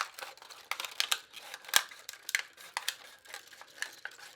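Scissors snip through a thick plastic water bottle, cutting it into a spiral for a sculpture. A quick, irregular series of close, crisp clicks and crackles comes with no talking.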